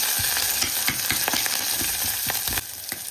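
Onion, green chili, garlic and curry leaves frying in a pan, a loud continuous sizzle with scattered scraping clicks from stirring, steady throughout.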